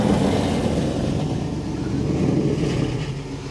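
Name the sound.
1968 Camaro SS LSX V8 engine revving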